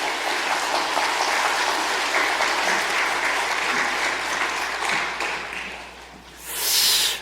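A church congregation claps steadily to welcome the pastor, a sustained and fairly loud wash of applause that swells into a brighter burst near the end.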